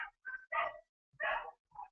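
Dogs bark in a quick series of four or five short, sharp barks, fairly close and faint, with brief silences between them and no talking.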